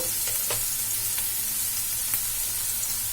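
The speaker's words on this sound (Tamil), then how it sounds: "வெங்காயம் லைட்டா வதங்கிடுச்சு" Onions lightly sauté in a pan, giving a continuous close sizzle broken by a few sharp clicks and scrapes of stirring.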